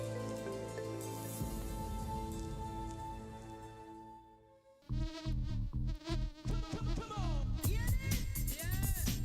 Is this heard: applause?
no